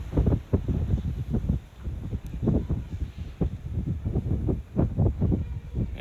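Strong 17 mph wind buffets a DJI Mini SE drone flying into the wind in sport mode, making loud gusting rushes and thumps that rise and fall in bursts close to the microphone.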